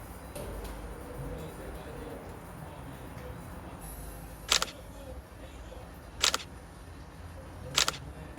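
A Galaxy Note20 phone camera shutter, fired remotely with the S Pen from a distance, clicks three times at roughly 1.5-second intervals against quiet outdoor background noise.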